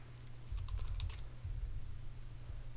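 Quiet, rapid clicking of keys being typed on a computer keyboard, a close, steady patter with no one speaking.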